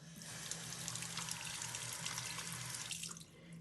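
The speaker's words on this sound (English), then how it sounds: "You'll then rinse the dentures under warm running water." Warm tap water runs steadily over dentures held under the faucet at a sink, a continuous close splashing stream that briefly changes tone near the end, with no speech.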